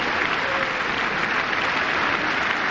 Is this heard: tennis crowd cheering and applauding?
yes